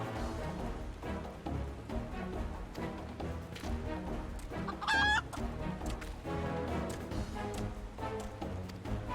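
Chickens clucking in Final Fantasy XIV over a continuous layer of game music, with a short rising rooster-like squawk in the middle.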